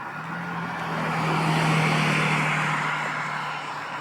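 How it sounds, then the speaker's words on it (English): Ride1Up Core-5 electric bike motor straining on throttle up a steep hill, a steady low electric whine held under rushing wind that swells in the middle and eases toward the end. "Just making the motor work pretty hard"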